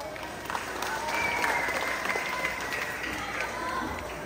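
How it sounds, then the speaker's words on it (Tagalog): Crowd at a barangay fiesta beauty pageant claps and cheers steadily throughout, a dense wash of applause with scattered shouts, moderately distant and sustained without pause. "sabay-sabay palakpakan at hiyawan"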